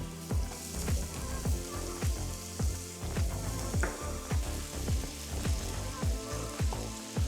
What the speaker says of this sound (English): And we'll add the onions and the garlic and the pancetta.